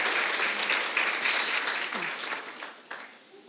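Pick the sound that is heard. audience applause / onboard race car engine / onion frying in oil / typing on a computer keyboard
audience applause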